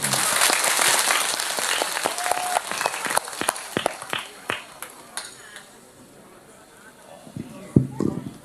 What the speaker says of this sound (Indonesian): Tepuk tangan untuk BTV.